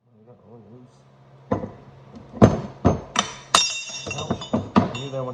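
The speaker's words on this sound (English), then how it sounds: "all you need to do is just lightly tap each item a little bit. I have the brass hammer here to do that" Brass hammer lightly tapping loose parts on the front suspension of a Ford Bronco during a leveling kit install: a series of sharp metallic clinks and knocks, several spaced hits in irregular rhythm, close and fairly loud after a quiet start with faint background.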